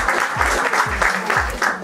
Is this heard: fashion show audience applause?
yes